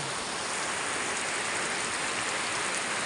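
Heavy rain pours steadily over rice fields, a dense, even hiss of falling water that continues with no break and no voices.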